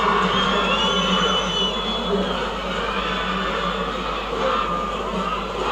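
At a rugby sevens match, Nepal against Hong Kong China at the Asia Rugby U20 Sevens, the crowd cheers in a steady, broad roar after a try, sustained throughout at moderate loudness.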